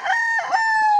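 A single gamefowl rooster at a game farm crows close by, loud and clear, with a drawn-out final note.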